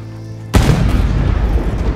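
A cannon fires in the Red Dead Online video game, one sudden heavy boom that rolls into a loud, sustained rumbling roar lasting to the end.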